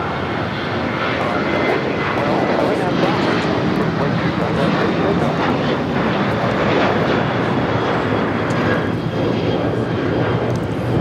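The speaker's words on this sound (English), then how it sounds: "This is American Airlines 1668 taking off to Phoenix on a 737-800." An American Airlines Boeing 737-800 takes off with a broad, steady engine roar, loud and sustained, while a voice talks over it.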